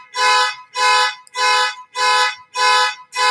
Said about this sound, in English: Somebody's fire alarm is going off.